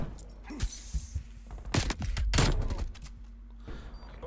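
Bursts of gunfire from a KSP45 in Black Ops Cold War multiplayer crack in short clustered volleys with sharp impacts, mid-loud over a low game hum.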